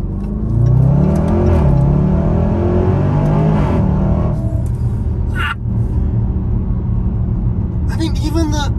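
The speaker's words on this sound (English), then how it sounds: "the 8-speed gearbox changing gear is an occasion" A loud SUV with an 8-speed gearbox revving hard, engine note rising and dropping as it shifts through gears, a deep roaring rumble close up, with a person talking over part of it.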